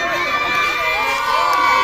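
A crowd cheers at a children's day event, with a dense, continuous wash of shouting children and excited voices, loud and close throughout.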